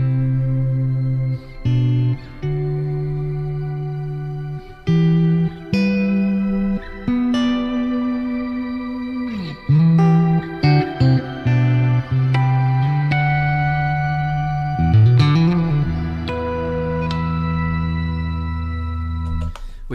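An electric guitar plays through a shimmer reverb pedal, sustained notes blooming into a shimmering, octave-rich reverb wash, with long ringing tails between phrases.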